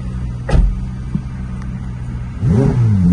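A Ferrari F8 Tributo's engine revs briefly with a sharp burst near the start, then settles into a low idle before rising again as the car is edged onto a transport truck in Portugal.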